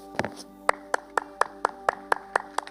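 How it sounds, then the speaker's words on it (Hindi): Church audience clapping in unison to a steady, evenly spaced beat, about ten sharp claps in under three seconds, close and clear with no talking over it. "उनके लिए ताली ऐसे बजनी चाहिए।"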